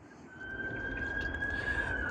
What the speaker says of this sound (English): Apologies for the ambulance in the background.